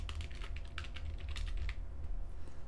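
Quick, light typing on a computer keyboard while renaming a document tab, a close run of soft key clicks with brief pauses and no talk.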